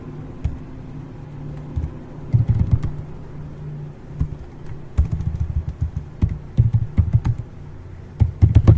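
Typing on a computer keyboard while entering text into a graph in EViews 8, in bursts of quick close key clicks with short pauses. A low steady hum runs underneath.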